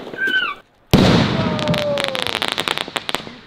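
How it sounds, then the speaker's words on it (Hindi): A large firecracker bomb goes off outdoors in an open spot with a sudden, sharp, loud blast after a moment of silence, followed by a rapid trail of crackling pops that fades out. "इस बड़े वाले बम हम यहाँ पे फोड़ेंगे"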